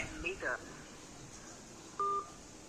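Two short electronic telephone tones sound near the start and a third near the end, with quiet background between them, as a phone call rings unanswered during a cash-on-delivery parcel drop.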